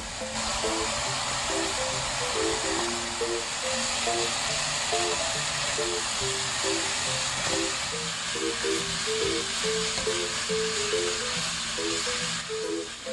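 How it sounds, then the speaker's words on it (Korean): Thin pork being stir-fried with seasoning sauce for Korean jeyuk-bokkeum, giving a steady, loud broadband sizzle that persists throughout. A faint tonal pattern runs underneath it, and no one speaks. "고기에 핏기가 없어지고 육즙이 나올 때 양념장을 넣어 볶아줍니다."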